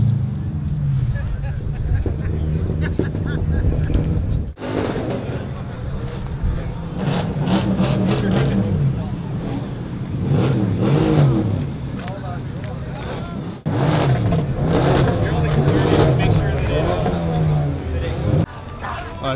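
Loud modified Subaru cars at an outdoor car show, engine roar and revving rising and falling over wind noise, with someone talking over most of it.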